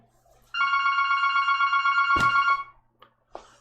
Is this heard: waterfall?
no